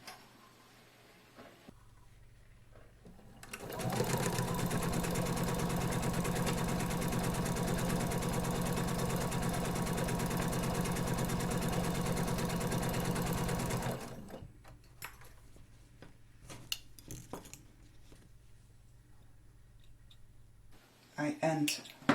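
A sewing machine stitches a fabric shoulder bag in one steady burst of about ten seconds, close and even-paced, with quiet clicks and handling noises before and after.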